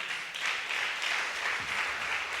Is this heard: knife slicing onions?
no